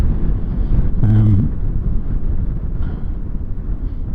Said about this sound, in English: So it really is very, very gusty.